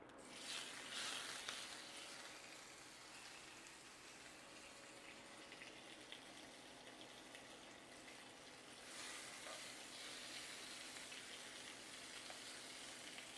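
Lamb chops seasoned with thyme-topped butter and rosemary sizzle steadily in a hot pan, a continuous broadband frying hiss that swells louder near the end.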